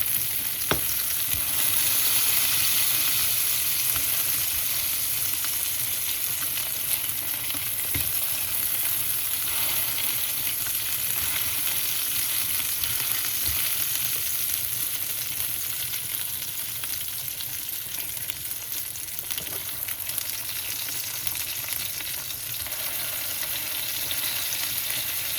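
An egg and bread fry in a pan, a steady close sizzle and crackle with faint stirring or scraping, continuous and even throughout.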